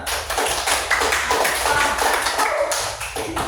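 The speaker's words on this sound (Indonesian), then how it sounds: "Ya, tepuk tangan dulu ya." Children in a Grade 5 primary school classroom clap their hands together, a dense, steady patter of many small palms lasting throughout, close and fairly loud with no talking over it.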